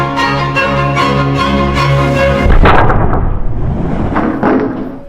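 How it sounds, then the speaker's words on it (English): A 16-pound sledgehammer slams into a polycarbonate panel, a single loud, close impact about midway through that cuts off a steady humming drone and leaves a rattling, ringing tail. "I'm hitting a polycarbonate panel with a 16-pound sledgehammer as hard as I can"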